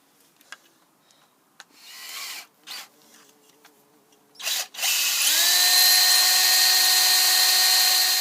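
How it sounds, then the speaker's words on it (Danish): A power drill bores a small hole in a plate while building a homemade electric bicycle. Soft handling knocks and short bursts come first, then the drill spins up into a loud, steady whine that runs to the end. "så tager du og borer et lille hul i den her plade her"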